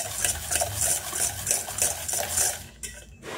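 Metal spoon scraping and clinking rhythmically against a bowl while coconut batter with a pinch of added salt is stirred, a steady close stir with regular strokes that fades out near the end.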